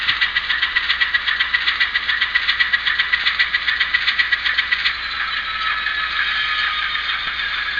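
The budget motor of an Atlas RS-1 model locomotive whirs steadily with a rapid rhythmic clicking rattle as it crawls along track, smoothing into an even hum after a few seconds.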